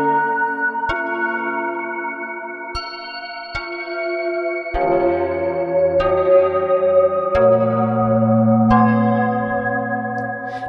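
A U-He Zebra 2 synth atmosphere preset imitates struck stalactites, with sparse bright metallic pings over sustained tonal layers that thicken midway into a denser, echoing pad.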